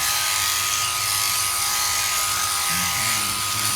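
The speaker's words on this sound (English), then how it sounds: "Now we're getting those blows along her back. Every width of the clipper blade, a blow." Electric clippers buzz steadily as they shear a sheep's fleece in long blows along its back, a close continuous hum with a shift in pitch near the end as the blade changes load.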